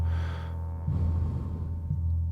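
A woman gasps and heaves in a dramatized scene of retching over a toilet, giving two sharp, strained bursts over a low sustained rumble, close and loud.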